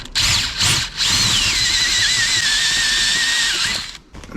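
A power drill with a step drill bit widens a hole toward 12mm in the metal of a VW T5 van, whining steadily for about three seconds with a wavering squeal as the bit cuts, after two short starts.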